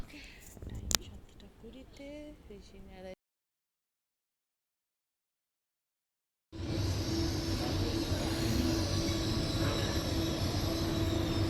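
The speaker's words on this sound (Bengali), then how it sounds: "আমরা লাস্ট ট্রেনটা মিস করেছি এরপরে ট্রেনটা আসবে" A train comes into a station with a loud, continuous rumble and a steady hum that fill the end of the stretch. Before it there are a few seconds of talk and then a complete silence.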